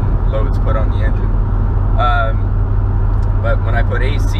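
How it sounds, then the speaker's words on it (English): A Mitsubishi Evo engine idling with the air conditioning off, a steady low drone running throughout, close and fairly loud, with someone talking over it. "I have the AC off, the car idles fine"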